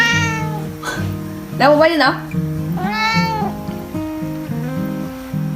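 A cat sitting on top of a refrigerator lets out a couple of clear, drawn-out meows close by. They sound over a steady musical tone while a person speaks to it softly.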